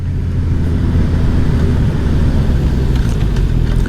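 Suzuki Katana 2020 motorcycle engine heard on board while riding through a string of curves, a loud continuous low rumble with wind roar and slight shifts in revs throughout.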